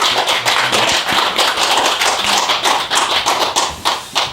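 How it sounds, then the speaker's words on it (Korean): Audience applause of respect and gratitude at a 5.18 memorial concert, dense, continuous clapping from a crowd, loud and close, with no voices over it. "존경의 박수 부탁드립니다"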